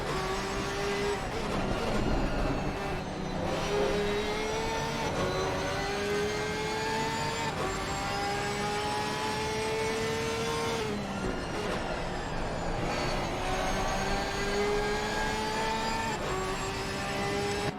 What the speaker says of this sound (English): listen to that glorious flat 6 engine for a few moments.